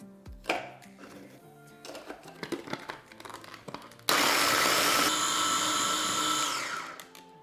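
A mini food chopper grinds biscuits into sandy crumbs for a strawberry cheesecake base, starting with scattered chopping knocks before a loud, steady motor whir runs for about three seconds and then tapers off.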